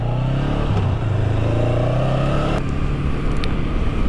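A 2019 Honda Rebel 500 motorcycle cruising steadily with a continuous, loud engine drone and low rumble throughout, plus faint wind and road noise, with no talking.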